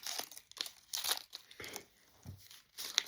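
Blind box packaging is cut and pulled open up close, making soft crinkling and tearing plastic rustles in short, irregular bursts at low volume, with no talking.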